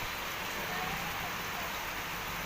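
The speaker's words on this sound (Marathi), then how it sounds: "कसा मोठा पाऊस असा पडत आहे" A constant, even downpour of heavy rain fills the air, a uniform hiss with no pauses and no voices.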